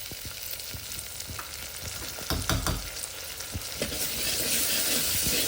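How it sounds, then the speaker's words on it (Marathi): Loud, steady sizzling of tomatoes hitting hot oil tempering for dal methi, with a few scraping clicks and the frying growing fuller toward the end. No voices. "आता याच्यात आपण टोमॅटो टाकतो आहोत फोडणीमध्ये"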